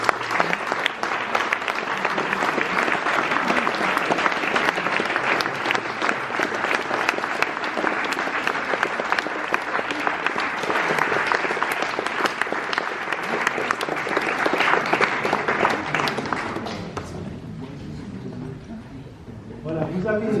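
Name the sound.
audience applauding prize winner at award ceremony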